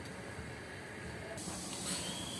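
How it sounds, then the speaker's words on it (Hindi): Water coming to a boil in a covered pot for homemade vermicelli gives a soft, steady hiss that swells slightly louder partway through, quiet and close, with no voices. "इसका पानी उबलना शुरू हो चुका है।"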